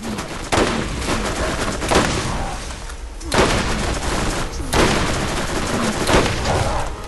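Repeated shotgun blasts in Borderlands, several heavy booming shots spaced about a second apart, loud and close amid ongoing game noise.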